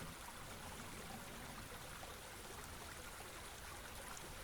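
Steady flowing stream water, a continuous even rush and trickle with no breaks, fairly faint and heard alone without any voices.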